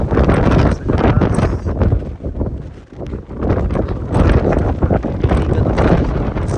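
Strong wind roars loudly and steadily during a snow blizzard, gusting in broad surges with a brief lull midway before building again.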